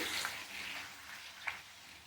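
Soft, steady sizzling and crackling of papad frying in hot oil, fairly quiet, with a couple of brief louder spatters.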